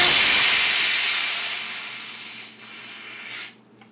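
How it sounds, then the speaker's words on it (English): CO2 gas venting from an overpressurized kegerator keg, a loud close sharp hiss that gradually weakens, dips, then cuts off abruptly. "I'm going to vent all the excess pressure from in here, because we don't want to try to serve this at 40 psi."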